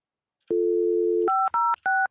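A telephone gives a short steady dial tone, then three quick dialing beeps follow in a row, clear and close, with no talking.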